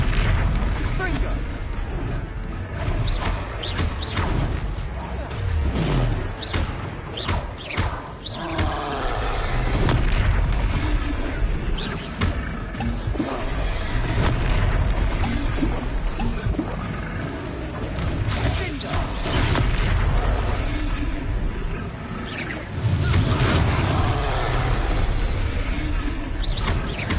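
Confringo blasting curses go off in Hogwarts Legacy as a string of heavy booms and rumbling blasts amid ongoing game combat, with spoken spell calls mixed in.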